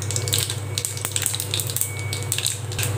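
Dry red chillies and mustard seeds sizzle in hot oil, a close, steady crackling fry with scattered pops and no one talking.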